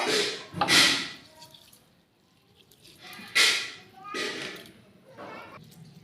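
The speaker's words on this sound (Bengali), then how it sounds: "এইভাবে হাত দিয়ে ভালো করে ধুয়ে এর যে একটা নোংরা জল বেরোবে" Hands swish and slosh soaked sago around in a bowl of water, giving a few close, wet splashing bursts separated by quieter moments.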